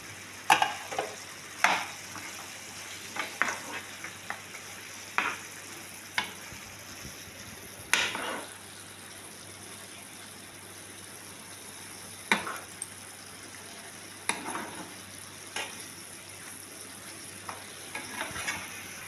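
Liver frying in a pan with dill leaves: a soft, low sizzle runs throughout, broken by repeated clicks and scrapes from a spoon stirring at irregular intervals.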